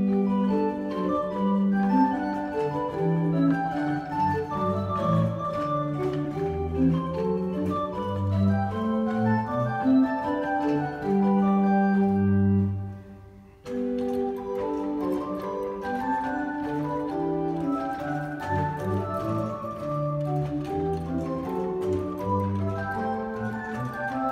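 An 1806 Schiörlin pipe organ in Gammalkil playing combined 8-foot flute stops, soft, breathy sustained tones in a flowing multi-voice passage, with a brief break before the music resumes.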